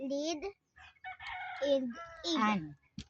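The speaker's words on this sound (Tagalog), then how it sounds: "Sam has a hen" A hen calls out in several loud, close, drawn-out squawking bursts separated by short pauses, ending with one brief clipped note.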